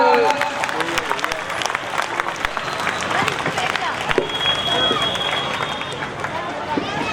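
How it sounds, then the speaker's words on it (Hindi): Applause and crowd noise at an interfaith Republic Day flag hoisting in India, a dense, steady patter of clapping mixed with chatter that carries on for the whole stretch. "जोरदार तालियों से स्वागत"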